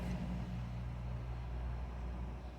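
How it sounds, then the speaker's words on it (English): A big truck moving past at a distance, heard as a low, steady engine rumble that holds throughout and eases slightly toward the end, with no talking over it. "Listen to this big old truck coming out."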